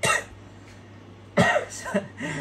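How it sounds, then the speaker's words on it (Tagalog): A person coughs twice, a short cough at the start and a louder burst in the middle, close to the microphone. "Inuubo pa ako"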